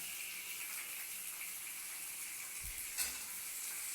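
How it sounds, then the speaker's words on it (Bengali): Ginger, onion and garlic frying in oil, a faint steady hiss of sizzling with a soft bump near the end, no speech. "এখানে আদা, পেঁয়াজ, রসুন আমি এই তেলের মধ্যে দিয়ে দিলাম।"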